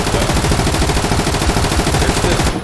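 Automatic gunfire in the video game Zero Hour, one sustained rapid burst of loud, dense shots lasting a couple of seconds, then stopping abruptly.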